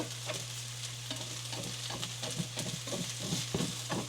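Hash browns fry in a HexClad pan with a steady broadband sizzle, broken by repeated scraping and stirring strokes from a utensil, close and even in level with no talk.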